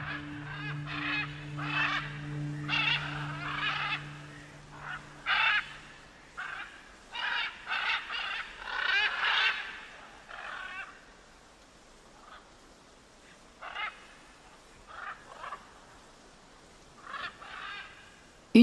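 Scarlet macaws in a Honduran valley give harsh, raucous squawks in irregular bursts, several calls overlapping at moderate distance against a quiet background.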